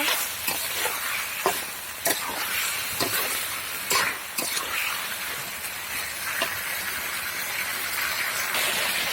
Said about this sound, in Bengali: এখন আমি কলাগুলো দিয়ে দিচ্ছি। এই কলাগুলোকে নেড়ে চেড়ে সুন্দরভাবে কষিয়ে নিব।